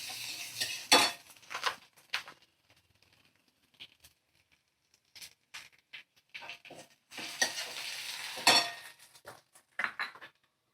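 A spoon stirs eggs and vegetables with Kashmiri red chilli powder, ginger-garlic paste and a medium tomato in a pan, giving intermittent scraping and clattering bursts with quiet gaps between them and no talking.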